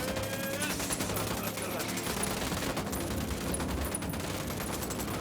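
Sustained automatic gunfire fills the whole stretch in Ghost Recon Wildlands, a dense continuous volley with crackling shots layered over one another and voices faintly underneath.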